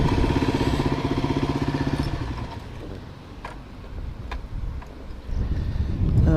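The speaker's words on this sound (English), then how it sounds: "that wind is strong" Strong gusty wind buffets the microphone beside a motorcycle, a loud low roar that eases in the middle and surges back toward the end, with faint engine rumble underneath and no talking.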